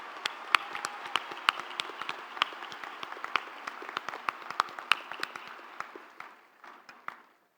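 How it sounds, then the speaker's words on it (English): A round of applause from a commencement crowd at UNC-Chapel Hill for the Board of Trustees, with sharp individual claps standing out over dense clapping that thins out and fades after about seven seconds. "Let's give them a round of applause for all they do for us all the time."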